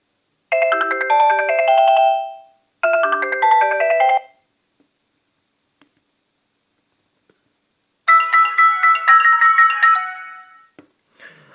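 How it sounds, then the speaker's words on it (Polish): A Sony Ericsson W395 phone ringtone plays in three loud bursts: two short melodic phrases, a pause of silence, then a busier, denser tune. "I ostatni dzwonek, oczywiście popularny najbardziej."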